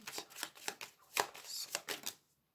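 Lenormand fortune-telling cards shuffled for a draw, a quick run of about nine crisp riffling flicks, close and fairly soft, ending abruptly.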